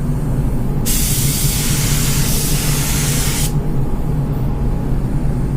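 Paint spray gun spraying in a shop, a loud steady hiss that starts abruptly, holds for about three seconds and cuts off, over a constant low background hum.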